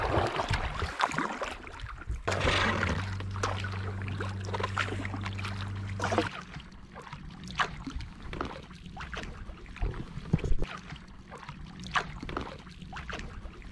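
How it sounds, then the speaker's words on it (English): Sea kayak paddled along the coast of Corsica, with soft splashing paddle strokes and water trickling past the hull, plus a steady low hum for a few seconds near the start. "And we're off another day paddling in paradise."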